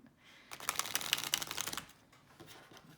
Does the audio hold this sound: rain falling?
no